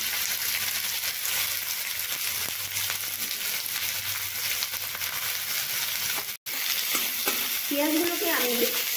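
Chopped onions sizzle and fry in hot spiced oil with garlic for dhaba-style rajma, a steady close crackle with occasional stirring scrapes, a brief drop to near-silence partway through, and a few faint tonal clinks near the end.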